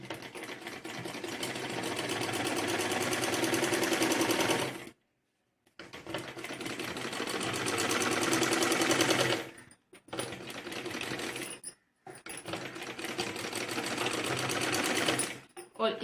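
A sewing machine stitches a blouse front piece in long rapid runs of mechanical chatter, broken by short pauses, with a voice talking faintly underneath.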